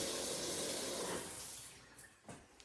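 Water runs from a faucet in a new-construction house with a steady hiss that thins out after about a second and a half, ending in a few faint splashes.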